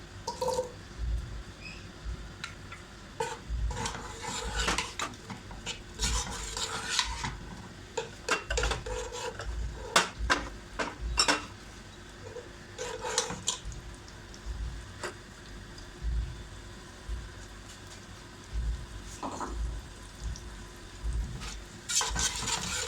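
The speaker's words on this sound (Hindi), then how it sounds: "जैसे ही ऑयल गर्म हो जाए तो इसमें ये प्याज डाल देते हैं।" Onions fry in hot oil in a handi, with a continuous close sizzle broken by frequent spoon scrapes, stirring strokes and occasional clinks of metal against the pot throughout; no one talks.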